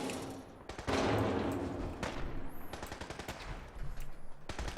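Sustained automatic gunfire in Fallout 4 as a super mutant fights a robot, rapid bursts of shots and crackling fire with a few sharper single reports, fairly close and loud, with no talking.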